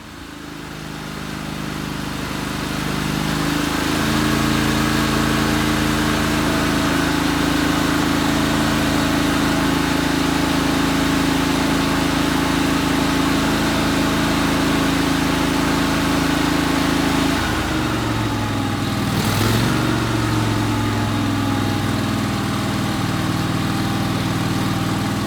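A Craftsman GT lawn tractor engine runs steadily up close after a carburetor cleaning, giving a loud, even mid-pitched drone that holds for the whole stretch with a slight change in tone near the end.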